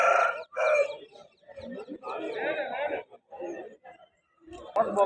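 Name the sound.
roosters and chicks at a Vijayawada rooster market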